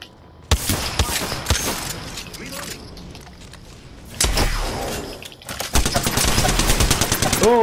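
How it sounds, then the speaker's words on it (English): Gunfire in the video game Apex Legends: rapid bursts of automatic fire and sharp single shots in clusters, loud and close, with a voice talking between them. "They're shooting at me."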